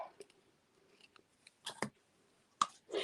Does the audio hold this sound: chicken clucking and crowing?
no